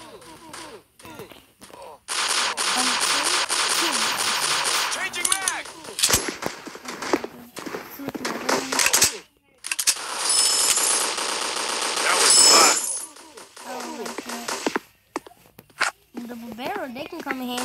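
Gunfire, likely from a video game, comes in long, dense bursts of rapid crackling shots that are loud and close. A person talks between the bursts.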